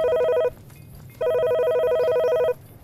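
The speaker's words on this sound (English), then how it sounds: "That's my phone." A phone ringtone sounds in two bursts of bright, steady electronic tones, a short pause between them, loud and close over a faint background.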